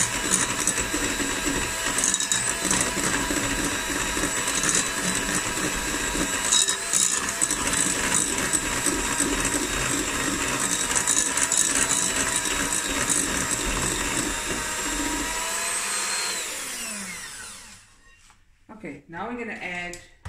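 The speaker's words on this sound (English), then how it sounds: "Now I'm going to mix this together." Egg, milk and vanilla mixed for a milk tart, a steady whirring, rattling beat running loud and unbroken for about seventeen seconds, then stopping and leaving a few faint clinks.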